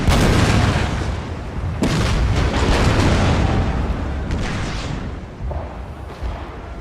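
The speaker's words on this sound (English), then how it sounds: "They're lobbing a lot of shots out there, hitting one of the gunboats and causing them to surrender." Naval cannon fire in the Total War: Shogun 2 video game battle, as shots strike gunboats: dense, continuous rumbling booms and blasts with sharp cracks, loud and layered throughout with no talk.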